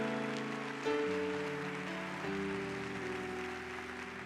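A church congregation applauds during a morning service, a steady rain-like patter of many hands held under sustained chords of music, moderately soft and diffuse.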